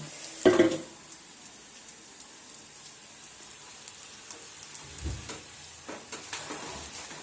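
Food frying in a pan in a home kitchen, a faint, steady sizzle with soft scattered crackles and a couple of louder clunks early and midway.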